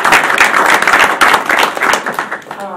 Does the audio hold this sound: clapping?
yes